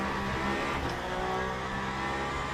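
Peugeot prototype race car engine in the Le Mans Ultimate sim racing game, a steady loud drone of engine and road noise held throughout with no voices.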